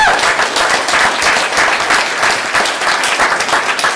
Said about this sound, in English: Would you please give everyone a warm welcome, a warm round of applause.